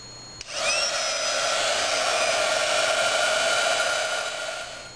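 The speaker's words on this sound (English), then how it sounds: "I get my heat tool and emboss." Hot air from a heat embossing tool roars on steadily after a short click at switch-on, loud and continuous with a whining tone, used on a note pad clipboard craft project.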